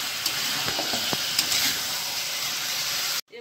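Chicken fries lightly in a pan for kosha curry, a dense close sizzle with a few sharp spits that cuts off abruptly near the end.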